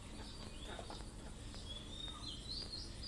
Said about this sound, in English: So I can listen to these birds and I'm observing them